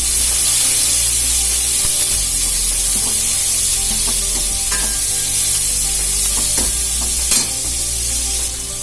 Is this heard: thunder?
no